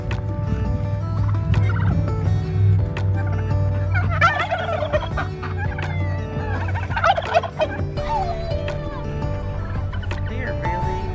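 Several turkeys gobble repeatedly inside a turkey coop, close and loud, with bursts of warbling calls over a steady background hum. No one speaks.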